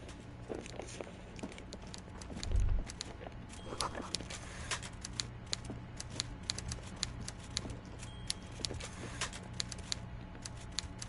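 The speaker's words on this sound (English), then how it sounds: "the man behind the desk clatters away on his typewriter, willfully indifferent to your presence" A typewriter clattering in Disco Elysium, quiet, steady rapid key strikes with irregular rhythm, plus a soft low thump early on.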